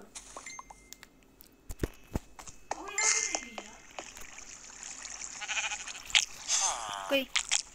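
Sheep in the Minecraft video game let out wavering bleats, repeating several times while children talk loudly over them, with occasional clicks from the game.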